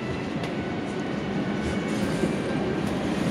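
A Kolkata metro train runs between Gitanjali (Naktala) and New Garia, with a steady, loud rumble and faint rail clatter heard from on board, continuous and without voices.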